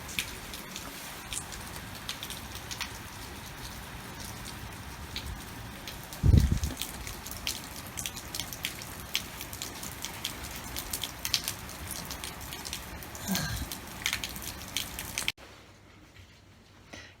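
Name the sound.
heavy rain falling outside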